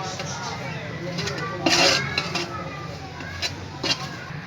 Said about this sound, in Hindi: उसके अंदर हम सूजी डाल के पहले सूजी को हम भूनेंगे अच्छी तरह